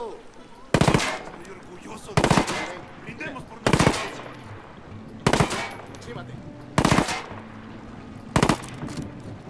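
Six bursts of SR3M rifle fire in Ghost Recon Wildlands, each a short rapid volley, come at regular intervals about every one and a half seconds, loud and close, with quieter game ambience between them.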